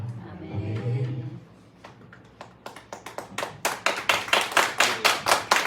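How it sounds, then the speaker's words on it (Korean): A church congregation at a praise service breaks into rhythmic clapping, starting with a low voice and then building into loud, regular, evenly spaced claps in unison. "감사와 찬양과 영광의 박수 올려드립니다"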